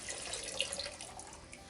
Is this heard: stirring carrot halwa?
no